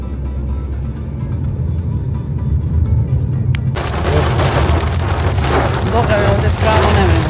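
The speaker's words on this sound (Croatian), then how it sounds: "Boga mi ovdje pravo nevreme." Heavy rain from a violent storm drums on a moving car, a quieter road rumble giving way suddenly to a loud, dense downpour hiss, with a muffled voice briefly under it.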